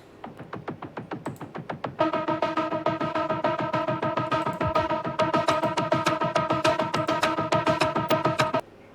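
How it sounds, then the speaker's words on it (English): Trailer-style music with sustained drones, rapid pulsing percussion hits at a steady beat starting softly and then swelling into a loud, dense layer of held tones with the pulse continuing over it until an abrupt cutoff. "So what you hear is drones."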